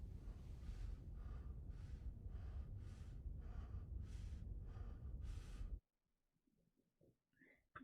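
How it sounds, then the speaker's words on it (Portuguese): A character in the video game Immortality breathes heavily in a loud, steady run of about eight rhythmic breaths, then falls almost silent with only faint rustles. "Por que ele tava respirando desse jeito?"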